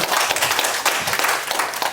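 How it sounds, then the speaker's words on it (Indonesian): Audience applause fills a hall during a marketing plan presentation, a loud, dense patter of many hands clapping steadily with no speech over it. "Boleh tepuk tangan buat kita semua."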